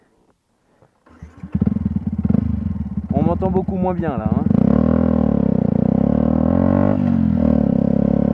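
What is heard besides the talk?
motorcycle engine revving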